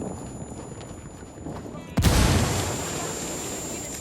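A sudden loud grenade blast in Ghost Recon Wildlands at about the midpoint, booming and then rolling into sustained noisy rumble, after quieter ambient gunfire.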